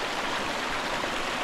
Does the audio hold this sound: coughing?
no